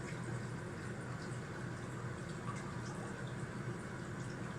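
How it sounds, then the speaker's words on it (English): A flowing river murmurs as a soft, continuous wash of water with faint gurgles, quiet and steady throughout, with no talking. "Listen to the river"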